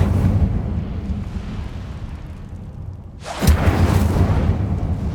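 Incendio fire spell cast in the Hogwarts Legacy video game, a sudden loud whooshing burst of flame that erupts over a low rumbling background and sustains for a couple of seconds.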